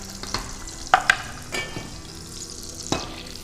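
Pumpkin sizzles in a pan of butter with bacon fat and cognac residue, a low steady frying hiss broken by a few sharp scrapes and clacks of a utensil stirring.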